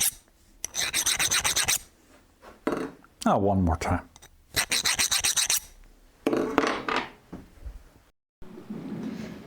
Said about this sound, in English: This is the noise of a file getting destroyed.